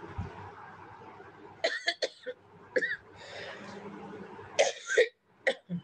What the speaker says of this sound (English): little bit coughing is there.